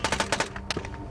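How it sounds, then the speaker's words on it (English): Short burst of gunfire from a firefight in Tikrit, Iraq during the 2003 war: a rapid run of sharp, loud shots, then a pause and a few more scattered reports. "Okay, that's gunfire."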